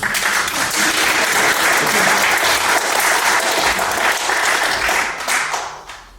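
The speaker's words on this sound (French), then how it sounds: "Applaudissez pour vous quand même." Loud, dense applause from an audience at a talk on Grassland song traditions, sustained for several seconds before tapering off near the end.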